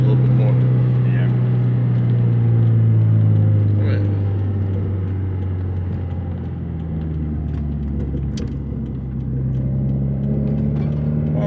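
Turbocharged Subaru WRX accelerating and merging onto a highway, a steady loud engine drone rising and shifting in pitch through the gears, with the turbo spooling, and someone talking over it.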